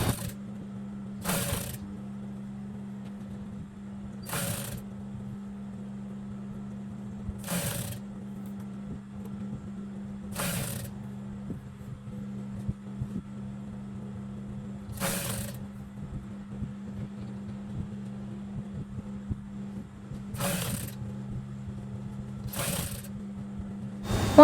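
Sewing a double-layer Egyptian hijab, with the cap being joined to the main body. A machine motor hums steadily while sharp mechanical clicks recur at irregular intervals.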